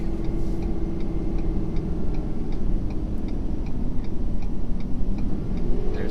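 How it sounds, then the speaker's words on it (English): A Ford F-550's engine brake rumbles steadily at close range while towing 30,000 lbs, a loud, continuous low drone with a faint ticking running through it. "You can really hear the engine brake."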